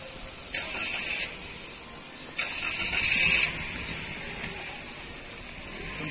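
A motorized sprayer spraying disinfectant indoors for COVID-19 prevention gives two loud bursts of high, hissing spray, one short and one longer, separated by quieter engine hum, with no talk.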